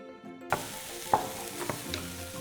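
Onion and garlic fry in a pan for Polish potato-and-olive pierogi filling, a steady sizzle with a few sharp scrapes of stirring breaking through, close and moderately loud, no voices.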